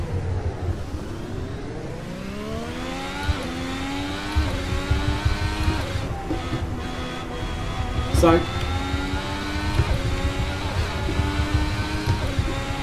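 Modern Formula One car lapping Spa-Francorchamps, its engine note climbing steadily through the gears with a brief sharp burst midway, loud and continuous beneath someone talking.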